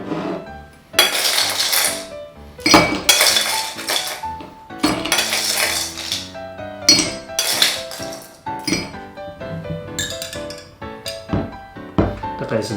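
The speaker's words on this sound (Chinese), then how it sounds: "我们这边准备了冰块，一个杯子里面大概放个3颗、4颗到5颗的冰块" Ice cubes dropped into a drinking glass while preparing a sparkling plum and tomato drink: a series of bright, close clinks and knocks in irregular bursts, several cubes landing one after another.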